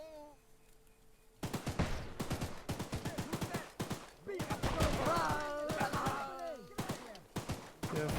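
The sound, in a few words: gunfire from video game Choo-Choo Charles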